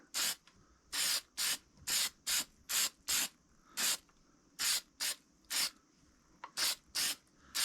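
Short bursts of spray finish, about a dozen, are applied onto a black walnut bowl in a woodturning shop. The hissing comes in an irregular rhythm and sits close and clear with no talk.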